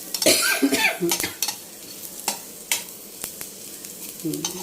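Tamarind, nalleru stem pieces and garlic cloves frying in oil, with a few loud spatula scrapes and clinks against the pan at the start and scattered taps over a faint sizzle.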